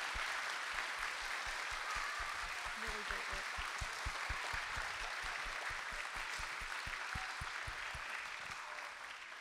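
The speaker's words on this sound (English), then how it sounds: "Another round of applause." An audience applauds at a grade 4 and 5 spring school music performance, with steady, fairly distant clapping that holds throughout and eases off at the very end.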